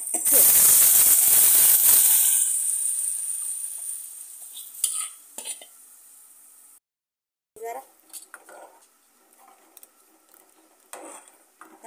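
Cooked sour greens, ambat chuka with dill, dropped into a hot tempering: a loud burst of sizzling that fades over a few seconds, then a lull and sparse spoon clinks and scraping as the pan is stirred.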